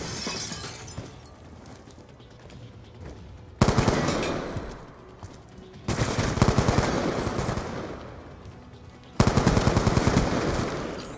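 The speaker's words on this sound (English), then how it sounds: "He uses a shotgun on us and then takes our guns" Rapid bursts of shotgun and automatic gunfire from Black Ops 2 come in three loud, dense barrages, separated by quieter stretches of game ambience.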